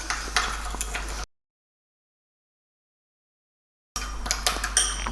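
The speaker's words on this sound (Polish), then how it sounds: "Całość dokładnie mieszam." A spoon stirs a thick mustard and sesame seed marinade in a bowl, giving light clinks and scrapes in two short bursts separated by a few seconds of silence.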